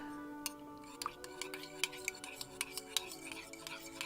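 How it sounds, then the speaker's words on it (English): A spoon clinks repeatedly against the inside of a coffee cup as the coffee is stirred, quick light metallic taps in an irregular rhythm, close and quiet under faint background tones. "Let me stir up my coffee."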